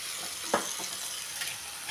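Boiled jackfruit pieces stirred into a sizzling biryani masala in a pan, a steady fry hiss with a single scraping stir stroke and a few softer ones.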